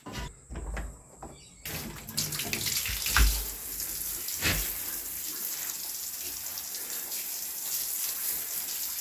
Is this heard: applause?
no